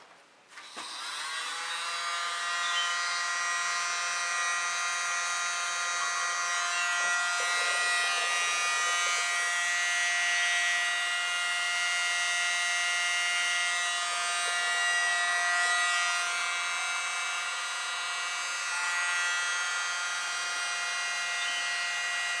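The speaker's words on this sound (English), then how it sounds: "I foolishly thought I could get rid of a bubble with the blower" A small blower aimed at freshly poured fluid art paint runs continuously for over twenty seconds, a close, steady whirring hum with a high whine that drifts slightly in pitch, with no talking over it.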